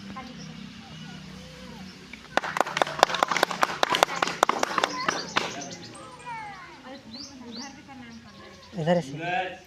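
Burst of audience clapping at an Independence Day gathering in India, a quick run of sharp claps lasting a few seconds amid background chatter and voices, with talk resuming afterward.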